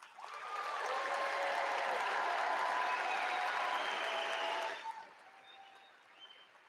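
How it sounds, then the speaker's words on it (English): A 2021 high school graduation crowd applauds the graduates, a loud sustained wash of clapping with a few cheers that cuts off sharply and leaves quiet room sound. "Parents, family members, staff, let's give the graduates a round of applause."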